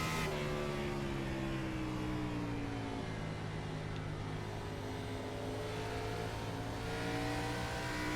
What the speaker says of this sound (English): On board with him as you see him work the throttle.